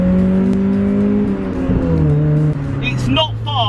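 A Mk1 Mazda MX-5 revs out in first gear on a road, then briefly drops in pitch as it shifts into second, loud and close from inside the car.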